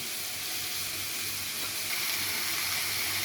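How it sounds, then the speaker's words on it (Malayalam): Mushrooms sauté in a pan for creamy mushroom soup, making an even, moderately quiet frying hiss that holds steady throughout without pauses. "മഷ്റൂം നല്ലപോലെ ഒന്ന് വഴറ്റിയെടുക്കാം."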